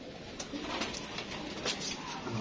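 Pigeons coo softly amid a loud, broadband hiss of outdoor noise, their low, muffled calls repeating faintly and irregularly.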